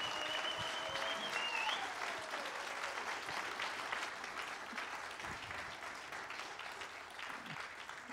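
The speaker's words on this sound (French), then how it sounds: "je voudrais, si c'est possible, que la salle fasse d'énormes applaudissements à tous ces bénévoles" A roundtable audience gives a long, steady round of applause for food-initiative volunteers, a dense crowd of clapping hands filling the room for the full stretch at an even level.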